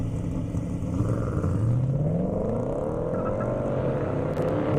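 At an airport half-mile drag race, a GT350 and an old Boss 302 Mustang roar off the line, their engines revving and climbing in pitch as they accelerate hard, loud and close.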